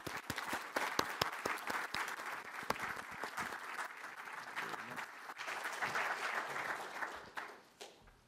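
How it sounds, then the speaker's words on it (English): An audience at the CHOGM People's Forum applauds steadily for several seconds, a dense crowd clapping that stays even before tapering slightly at the end. "Big round of applause."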